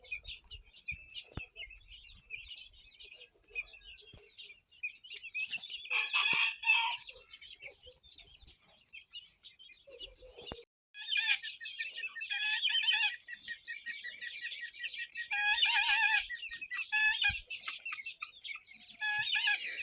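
Chickens and guinea fowl cluck and chatter in a lively mix of repeated, rhythmic calls that rise and fall, fairly close, with no talking.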